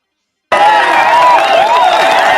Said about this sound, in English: And let's give Gabriel Lopez some hand claps and some noise, please.